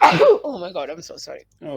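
A single sneeze bursts out loudly at the start during a tabletop role-playing game session, followed right away by people talking.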